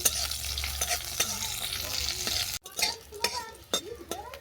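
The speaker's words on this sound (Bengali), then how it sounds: "দেখো ফোড়ন ভালো করে ভাজা হয়ে গেছে।" Panch phoron five-spice with dried red chili, bay leaf and slit green chili frying in hot oil for dal, giving a steady close sizzle broken by loud stirring scrapes, briefly cut off midway before the crackling resumes.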